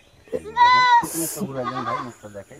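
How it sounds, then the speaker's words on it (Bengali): A female goat at a goat farm lets out one loud, wavering bleat close by, followed by people talking among other faint animal sounds. "জি, এটা মেয়ে ছাগল"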